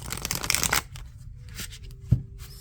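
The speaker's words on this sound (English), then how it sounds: "I shuffle both ways too." A deck of tarot cards being shuffled by hand, a dense run of riffling and rustling that fades into softer card handling with a sharp tap near the end.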